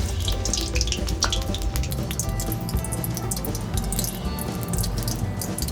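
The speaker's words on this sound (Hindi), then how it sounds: "देखिए तेल गरम हो गया है। अब इसमें पहले एक डाल के देखते हैं।" A dough ring fries in hot oil, giving a steady, close sizzle and crackle with scattered pops throughout.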